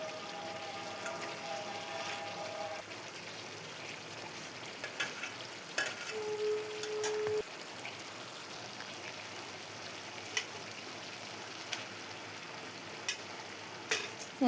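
Spices sizzling and being stirred in a pan while making a soya-based dish, a soft, continuous crackle with occasional louder scrapes and clicks from a spoon, fairly faint and without talk.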